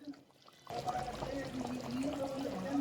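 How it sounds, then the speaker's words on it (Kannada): Rice is poured into a pot of chicken biryani, starting abruptly after a near-silent moment and continuing as a steady soft rushing pour with a watery trickle. "ಇದಕ್ಕೆ ಈಗ ನಾವು ರೈಸ್ ಹಾಕೋ ಅಕ್ಕಿ ಹಾಕೊಳ್ಳೋಣ"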